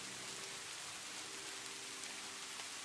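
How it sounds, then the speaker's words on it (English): Steady rain falls at night, a constant soft hiss of drops with no breaks, fairly faint and without voices. "I love the sound of the rain"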